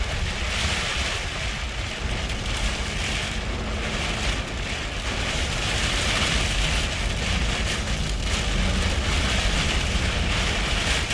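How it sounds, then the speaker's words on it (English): Heavy, constant rain drumming on a truck's metal surface during a sudden rainstorm on I-90 near Kimball, South Dakota, loud and close with a dense, unbroken roar throughout. "All I can hear really is the rain hitting the truck."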